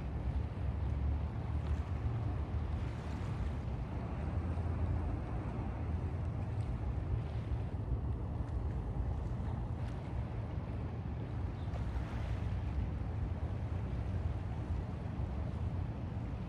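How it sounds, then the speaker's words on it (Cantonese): Cargo ship and a crowd of small fishing boats out at sea off Ma Wan on a cold day, heard as a steady broad rumble of engines and water with wind buffeting the microphone throughout. "係啊，有大貨輪嚟"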